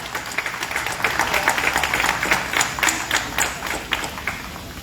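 An audience at a book fair ceremony gives steady applause for the fair's honoree, a dense, indoor-sounding patter of many hands clapping at moderate loudness that fades slightly at the end.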